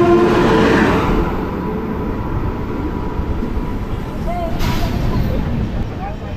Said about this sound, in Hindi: ये आ रहा Kanyakumari super fast express Howrah से।